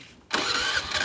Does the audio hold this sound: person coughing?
no